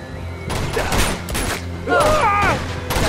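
Bursts of gunfire in the PlayStation 3 action game Uncharted 2, loud shots in clusters mixed with game sounds, with talk over them.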